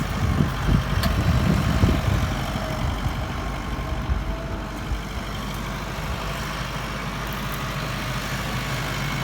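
A truck cruising on the road at about 85 with only one engine working after a tyre blowout: a steady, loud, low engine drone with rumbling road noise, unbroken and close for the whole stretch.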